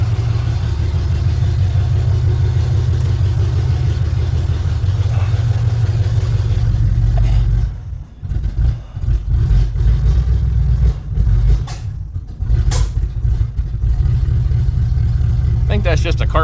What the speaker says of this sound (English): right, fire it up one more time.